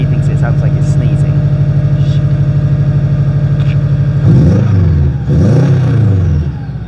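A highly modified turbocharged Subaru revs from a cold start, a steady lumpy idle pulsing loudly before two sharp blips rise and fall near the end, close and alone.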